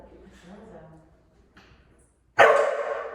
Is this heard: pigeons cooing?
no